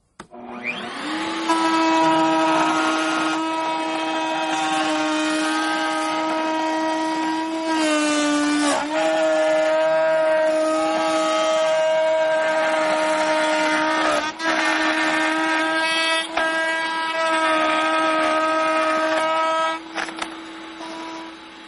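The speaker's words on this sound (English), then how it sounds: "Let's start up our router and let's cut out the centerpiece first" Handheld router cutting out a wooden centerpiece, a loud steady high-pitched whine that runs continuously close by, dipping briefly in pitch as the bit bites into the wood, with no talk.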